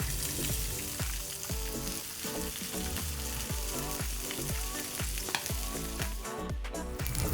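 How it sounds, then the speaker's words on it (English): Pork belly pieces sear in a hot pan for bao buns, a loud, dense, continuous sizzle and spitting fat close up, running over steady rhythmic background music. "at the last minute all you need to do is sear off your pork belly"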